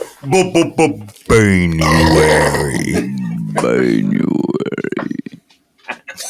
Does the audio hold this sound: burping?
yes